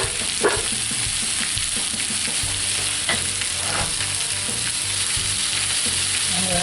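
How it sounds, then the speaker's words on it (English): Zucchini and onions sautéing over medium heat in a Lodge cast iron skillet, a close, steady, loud sizzle with a few stirring clicks and no talking. "we'll just throw them into our lodge here and get them sauteing"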